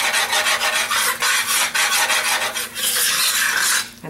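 A utensil scrapes steadily around the bottom and sides of a pot as a Cajun roux of oil and flour is stirred, a continuous close raspy rubbing with rhythmic strokes and no talking.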